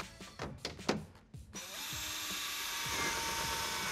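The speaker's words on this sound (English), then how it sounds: "on the side flange, I'm gonna drill 5 holes equidistant all the way down" Power drill boring holes into the side flange of a curved shower wall set, a few short taps and clicks followed by a sustained whining drill run close by.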